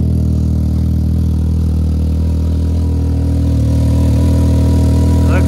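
A Can-Am Maverick X3 engine runs steadily with a new muffler fitted, a loud, close, continuous low rumble holding an even drone throughout with no voices.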